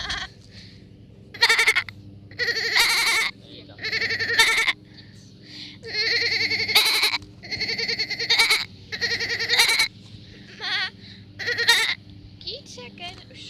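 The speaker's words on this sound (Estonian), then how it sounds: "Kitseken." Goats on a farm visit on Saaremaa island bleat over and over in loud, close, wavering cries, about ten calls in uneven bursts over a low steady background hum.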